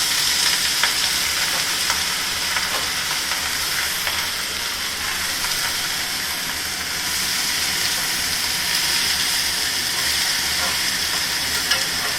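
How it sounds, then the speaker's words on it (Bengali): Bengali home-cooked mustard greens frying and being stirred in a pan, a steady close sizzle with scraping stirs running continuously and loudly throughout, no talk. "এবারে শাকটা দিয়ে দিলাম"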